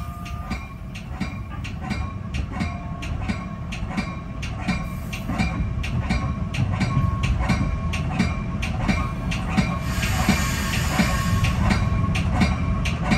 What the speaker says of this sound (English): Just going over all the tracks coming into Chicago Union Station on the Metra Milwaukee road lines.